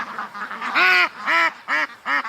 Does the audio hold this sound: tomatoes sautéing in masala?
no